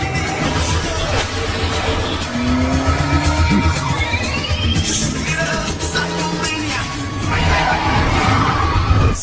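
A car chase in an action film, with tires skidding and squealing and engines roaring and revving, loud and continuous over dense, dramatic film sound.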